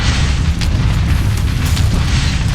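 A ship weapon's hit on an enemy grav drive in Starfield lands as a loud, sustained low boom and rumbling roar filling the whole stretch without pause.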